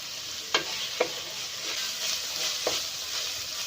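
Vegetables and noodles sizzle in a pan over a high flame, a constant hissing fry broken by a few sharp clacks of a utensil tossing the food.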